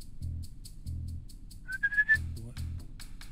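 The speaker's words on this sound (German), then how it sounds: "Mit X können Sie die Aufmerksamkeit der Feinde durch Pfeifen anziehen." A character whistles in the video game Potentia to draw enemies' attention. One short rising whistle sounds over a steady, low, rhythmic game background, with faint mouth-like sounds after it.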